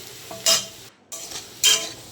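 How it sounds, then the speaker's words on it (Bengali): Onion fries in a wok over a low flame, giving a soft steady sizzle broken by two close, brisk bursts of stirring. "পেঁয়াজটা লো ফ্লেমে ভেজেছি যাতে ব্রাউন বর্ণ হয়"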